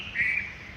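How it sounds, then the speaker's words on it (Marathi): A bird gives one short, clear call in a quiet village near fields, moderately close over faint background hum. "आणि एकदम असा गावा पक्ष्यांचा आवाज किती छान येतोय."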